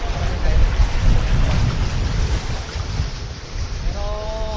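Strong river current of the Tubili River in Paluan, Occidental Mindoro, a loud, churning roar of fast water with heavy low rumble, continuous and close, with a brief voice-like tone near the end.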